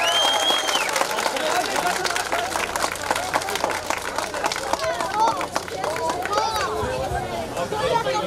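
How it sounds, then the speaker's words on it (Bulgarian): Crowd applause and lively hubbub fill the air at the opening of the Fato supermarket in the village of Todor Ikonomovo, with steady clapping mixed with chatter throughout. "Аплодисменти!"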